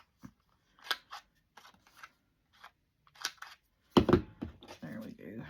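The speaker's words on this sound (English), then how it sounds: "I'm going to have to get me another one of these corner rounders." A corner rounder punch snips the corners of paper for Christmas ephemera, giving several small, crisp clicks and crunches spread across the moment, while a person talks close by.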